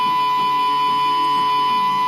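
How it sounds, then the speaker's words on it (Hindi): A home theater's Bluetooth USB panel just after power-on, giving a steady, continuous electronic beep tone under a faint background hum. "पावर ऑन करने के बाद आप सुन सकते हैं बीप आवाज आ रहा है।"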